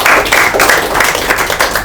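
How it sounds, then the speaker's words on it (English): Students at a farewell function clap together in a brief burst of loud, dense applause filling the room. "Clap for yourself."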